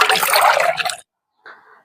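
Raw meat from a large aseel rooster being rinsed in water, a loud, close splashing and sloshing for about a second, then a brief silence and a softer second splash.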